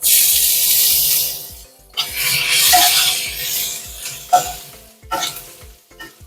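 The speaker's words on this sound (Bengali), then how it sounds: "আদা রসুন ভাজা হয়ে গেছে" Chopped garlic and ginger fry in oil for a home-style chilli paneer, a loud close sizzle broken by short pauses and bursts of spatula scraping and stirring.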